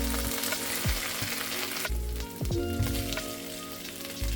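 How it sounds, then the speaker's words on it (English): Curry paste sizzles and fries with garlic and onion in a pan for a prawn dish, a steady close crackle broken by a few scraping stirs and a brief change in tone midway. "Mix the curry with the garlic and the onion."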